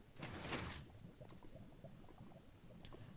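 A 3x3 door in Minecraft slides open with a brief sliding rush near the start, followed by quiet low clicking and a couple of faint taps.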